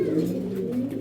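Racing breeder pigeons coo close by, a low rounded throaty burble that rises and falls without pause.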